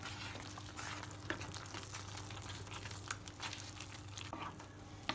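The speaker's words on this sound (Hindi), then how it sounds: "अब हम इसको अच्छी तरीके से मिक्स कर देंगे सारे मसालों को वेजीज में।" Spices being stirred into vegetables in a hot pan for Mumbai-style pav bhaji, a steady sizzle with occasional soft scraping clicks of the spoon, close and moderately quiet.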